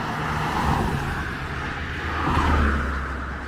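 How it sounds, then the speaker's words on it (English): A few cars, including a Land Rover, pass on a dark road near Rowley on the A68, a steady roadway rumble swelling as vehicles go by close, with a stronger whoosh toward the end. "Few cars coming, there's a Land Rover up."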